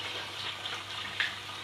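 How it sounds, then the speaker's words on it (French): Cold tap water runs steadily as a konjac sponge is rinsed under it, a soft continuous splashing hiss with no talking. "rincer à l'eau froide pour bien serrer les pores"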